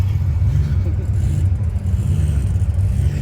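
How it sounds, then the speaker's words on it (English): A small rotary-engine race car running on E85 at a drag strip, its engine holding a steady, close, low droning rumble throughout. "A little rotary car."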